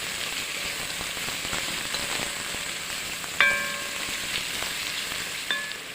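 Onion and carrot stewing in a pan, a soft continuous sizzle and crackle with a couple of light metallic clinks from stirring partway through.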